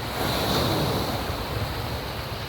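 Sea waves wash onto a beach in a continuous broad roar mixed with wind buffeting the microphone, steady and fairly loud with no voices.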